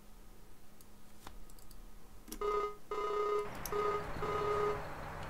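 Telephone ringback tone while calling a farm contractor, several short repeated tone bursts, fairly faint over a low background hiss and a few clicks.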